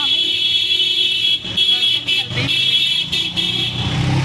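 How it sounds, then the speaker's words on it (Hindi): A loud, sustained minibus horn blares steadily over street traffic, with brief gaps, close to the listener. "मिनी मेट्रो, और कितना तेज हॉर्न है इसका"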